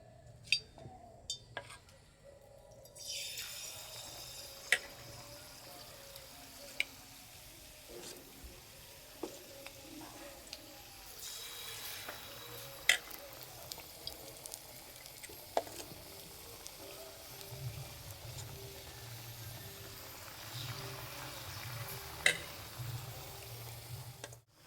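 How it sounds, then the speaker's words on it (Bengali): Gokul pitha, dipped in batter, frying in hot oil with a steady low sizzle and scattered pops and clinks, some running water heard, at moderate level throughout. "তেল গরম হয়ে গেছে, এবার ভেজে নেব।"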